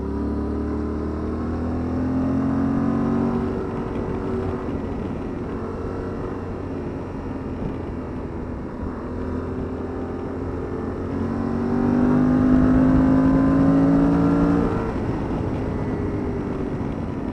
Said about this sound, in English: So you'll notice when you wind it up, it sounds just like a TDM.